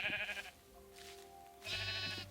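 Sheep in Minecraft bleating twice, nearby, with a short pause between the two calls.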